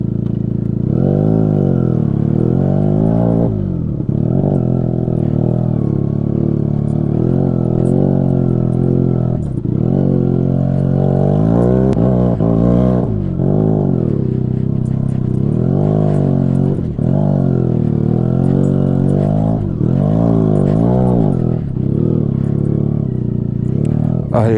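A motorcycle ridden off-road on the route from Kathmandu to Lamjung, Nepal, gives a continuous engine drone that rises and falls with throttle for the whole stretch, with faint clatter from the rough track.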